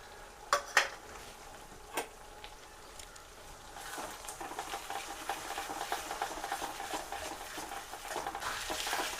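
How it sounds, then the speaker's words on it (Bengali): Ground spice paste frying in a pan for mutton curry, heard as a few sharp utensil knocks followed by a steady low sizzle and stirring scrapes, close and soft. "তো বাটা মশলাটা প্রায় ভাজা হয়ে গেছে বন্ধুরা"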